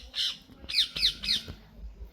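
A bulbul calls in a quick series of four short, sharp squawking chirps, one alone and then three in fast rhythm, fairly close against a quiet background with no talk.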